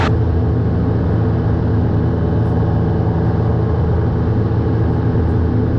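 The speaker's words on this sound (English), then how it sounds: "changing my prop now back to a cruise setting" Light aircraft engine and propeller droning steadily and loud after the prop is changed to a cruise setting of about 2450 RPM, a continuous close rumble with no talk over it.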